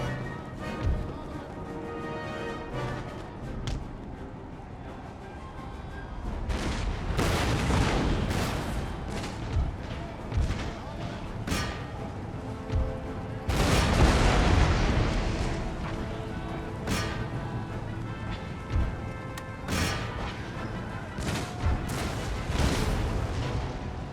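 Cannon and artillery fire roars through a battle in Total War: Empire, with repeated heavy booms and crackling volleys layered over a dense, continuous din of gunfire and battlefield noise.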